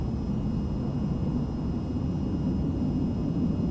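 Aircraft engine in the VTOL VR flight game running at takeoff power, a steady broad roar with a low rumble, constant and fairly loud throughout, with no talking.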